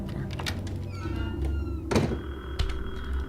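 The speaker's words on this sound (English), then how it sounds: "Oh, wait. Door." A door in the video game Detention gives a single heavy thunk near the middle, with a second softer knock shortly after, over a low droning game ambience and faint high tones.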